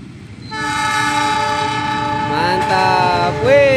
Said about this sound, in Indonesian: kereta api Lodaya melesat ya dengan semboyan 35-nya yang sangat panjang sekali